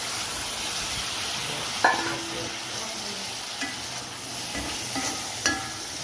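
Pork frying in its own rendered fat with onion, shallots, ginger and garlic in a pan, a steady close sizzle throughout with a few brief stirring scrapes.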